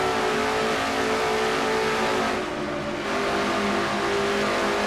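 Stock car engine screaming at high RPM in a racing video game, a loud sustained whine that dips briefly mid-run as it eases through a turn, then climbs again, with no talk.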